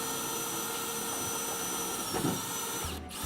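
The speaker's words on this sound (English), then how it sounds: "You see what happened when that drill went through the sheet metal?" A power drill whines steadily at high speed, with a brief grinding bite midway as it goes through a car door's sheet metal, and the motor cutting off near the end.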